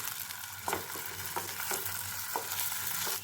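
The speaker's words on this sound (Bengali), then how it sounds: "এখন আমি এক এক করে কয়েকটা ছানা এর মধ্যে ছেড়ে দেব আর ভেজে নেব।" Chhana (paneer) fritters, or bora, frying in oil in a pan, giving a continuous soft, crackling sizzle with a few faint stirring or turning sounds spaced through it.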